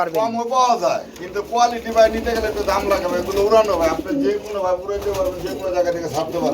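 Pigeons coo repeatedly close by at a pigeon market, soft rolling calls overlapping with people talking.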